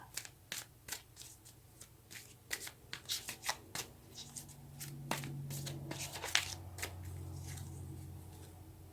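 A deck of tarot cards is shuffled up close in a series of quick riffles and crisp snaps, then a continuous softer shuffling rustle follows.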